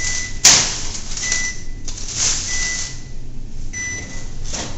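An oven being started, giving a short run of high electronic beeps, with a click at the start and a steady fan-like hum underneath throughout.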